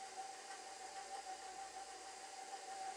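A stand mixer runs at low speed, beating buttercream frosting as powdered sugar is added, giving a steady, even motor whir with a faint high whine that holds unbroken for the whole stretch, with no voices.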